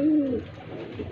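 A pigeon cooing once, a low, soft, throaty call, close and clear, fading into faint room noise.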